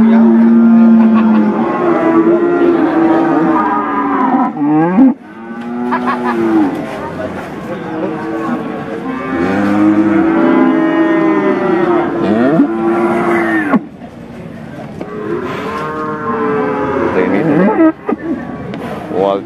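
Cattle at a weekly livestock market in Pati, Central Java, including a jumbo 700 kg Simetal bull, moo loudly and repeatedly close by, several long, drawn-out calls following one another through the whole stretch.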